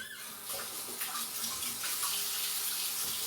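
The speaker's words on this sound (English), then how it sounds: "Let me just wash my hands a smidge." A kitchen tap runs steadily while hands are washed beneath it, a continuous splashing rush of water at moderate level with no talking.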